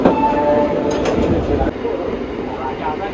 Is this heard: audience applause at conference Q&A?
no